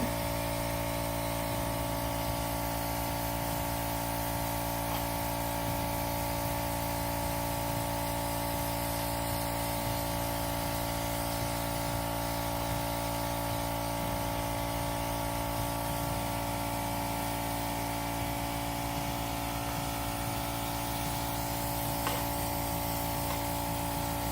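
An airbrush sprays an even coat of colour onto a cake on a turntable, giving a steady, continuous hiss with a low motor-like hum underneath that holds alone and unchanged throughout.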